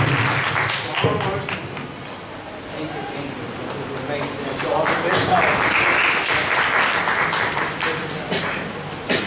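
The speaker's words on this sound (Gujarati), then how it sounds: "અને રશ્મિભાઈ ઉપપ્રમુખ છે, એમને પણ તાળીઓથી વધાવીએ." An audience at a 50th wedding anniversary celebration claps to welcome the vice president, dense applause running throughout the clip with a voice speaking over it.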